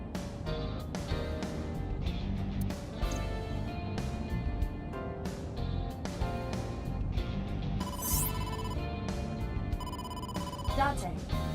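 A phone rings in the detective adventure game AI: The Somnium Files, a repeated electronic ringtone over busy, dense game music with bright chiming tones throughout.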